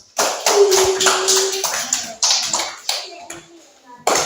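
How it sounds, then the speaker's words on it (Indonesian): A classroom claps together for everyone, with bursts of hand claps that start and stop in uneven groups and a voice heard in between. "tepuk tangan buat semua"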